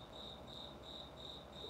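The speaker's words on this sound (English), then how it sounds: "we got crickets" Crickets chirping in steady, evenly spaced pulses, faint and distant against a quiet background with no voices.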